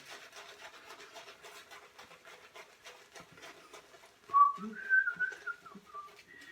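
During a shave, a steady rubbing, rasping noise gives way to a few airy, wavering whistle notes, close and thin, as someone attempts to whistle.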